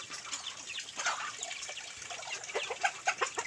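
Chickens cluck and chatter in short, scattered bursts, fairly close, just after feeding on a rural Philippine farm, with a busy outdoor background and no talking.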